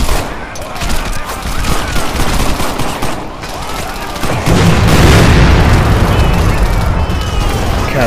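Video game explosions and dense gunfire from Crackdown on Xbox 360, a continuous roar of rapid shots and booms that swells into a heavier, louder blast midway and keeps rumbling.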